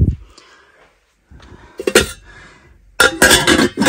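A metal pot lid clatters as it is set down, with a couple of sharp clanks and rattles close by after a quiet pause.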